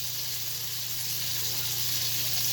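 A turkey burger patty sizzles in a pan of olive oil and melted butter, giving a steady, even crackle that holds throughout with no talk over it.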